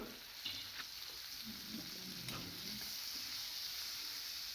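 Onion, tomato and green chili stirred in a frying pan for a Bengali pabda fish curry, with a faint steady sizzle and soft scraping of a spoon, quiet and without talk.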